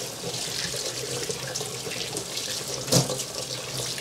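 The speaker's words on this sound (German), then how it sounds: "Die Hände werden gewaschen." Warm tap water runs steadily into a kitchen sink as hands are washed under it, with a soft splash near the end and no voices.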